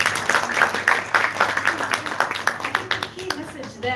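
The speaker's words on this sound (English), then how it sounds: "Let's clap for her again." An audience applauds a speaker at the Somalia CEOs Summit 2025 in a hotel hall: a busy patter of many hands clapping, fairly close and steady, tapering slightly toward the end, with voices mixed into the room.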